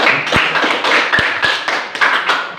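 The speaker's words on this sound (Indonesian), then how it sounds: "Jadi sekali lagi tepuk tangan untuk kita semua." A classroom of students claps their hands together, a close, lively patter of many hands, uneven and loud, with no talking.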